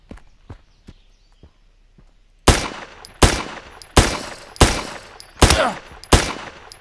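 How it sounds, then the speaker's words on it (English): A run of six loud, evenly spaced gunshots from the zombie survival game Zompiercer, each a sharp crack with a short tail, following a few faint taps and footsteps. "He's shooting at me."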